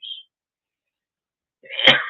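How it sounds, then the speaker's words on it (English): A single sharp sneeze bursts out near the end after a short faint hiss and a long silence, loud and close. "I got to sneeze"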